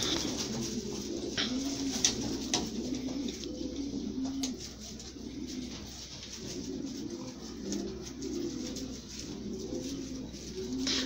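Soft, steady cooing from several racing pigeons continues throughout, overlapping low calls with faint rustling and occasional light clicks in the background.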